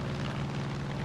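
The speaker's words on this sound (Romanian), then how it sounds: "Chiar îmi place să zbor cu avionul." A propeller airplane flies in the video game Far Cry 5, a steady loud engine drone with a low rumble, continuous and close for the whole brief moment.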